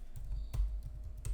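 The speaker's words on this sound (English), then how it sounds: "if I just type" Quick typing on a computer keyboard, a short burst of light, close key clicks in an irregular rhythm, quiet with no talking.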